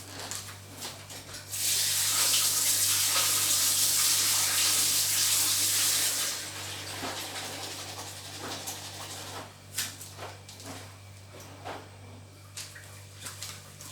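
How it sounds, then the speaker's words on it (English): Tap water runs steadily for several seconds over raw chicken pieces being rinsed for a Caribbean chicken, noodle and sweetcorn soup, a broad close hiss in a home kitchen, then stops, leaving faint clatter and handling noises. "Give it a quick rinse."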